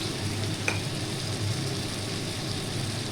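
Prawns frying in a pan for a poppy seed dish sizzle steadily and close, with a brief scrape of stirring near the start and no voices over the constant hiss.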